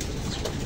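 Pigeons cooing at close range, a soft continuous murmur of coos from birds being brought in to their loft.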